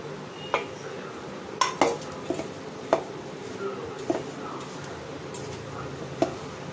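Spoon scraping and clinking against a pan while masala for cauliflower 65 is mixed, with scattered sharp metallic taps and scrapes at irregular intervals over a quiet, faint background.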